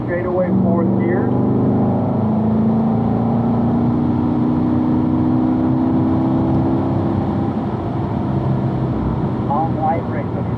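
A sports car engine pulls hard in fourth gear down a racetrack straightaway during a performance driving school session, a loud steady drone with a rising engine tone that holds throughout, no voices on top.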